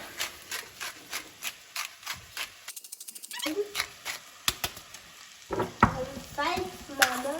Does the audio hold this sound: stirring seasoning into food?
yes